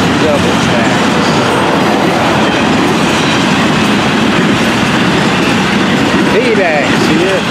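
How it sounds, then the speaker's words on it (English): Loud, continuous rumble and clatter of a freight train carrying lumber and double-stacked containers rolling past at close range, with metallic wheel squeals near the end. "Three lumber beams on the head of this train."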